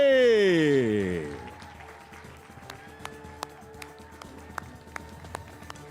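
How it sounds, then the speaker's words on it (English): Audience applause at the Honda Campus All-Star Challenge national championship for Hampton University's winning team: a loud tonal flourish opens, then the clapping dwindles to a few scattered, sharp individual claps. "Let's keep that applause and energy up."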